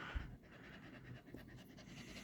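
A dog that has just given birth to her first litter of puppies pants quickly and steadily, close and fairly soft, with no talk over it.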